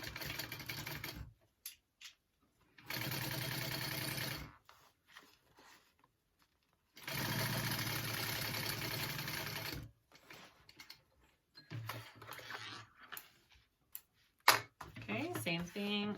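Sewing machine stitching a seam on a shoulder bag, running in two long bursts of steady whirring separated by quiet pauses, followed by short stop-start runs and clicks near the end.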